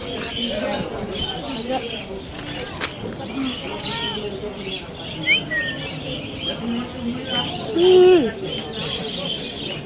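Small birds chirp and tweet through a busy crowd at an outdoor weekend pet market in Malabon, Philippines, with people talking throughout and a few brief, louder calls standing out near the end.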